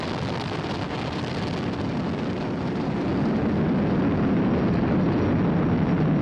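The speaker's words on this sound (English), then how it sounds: "Flying crew on board Dragon and Falcon 9, and look at them go." A SpaceX Falcon 9 rocket carrying a crewed Dragon capsule on the May 30, 2020 Demo-2 launch, about 30 seconds into flight, gives off a steady, dense, loud roar that swells slightly midway and holds without a break.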